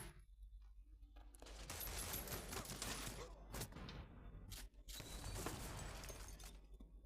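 Gunfire rattles through a World War Heroes online battle over capture points, a dense, steady stream of overlapping shots and bursts at low volume with no talk.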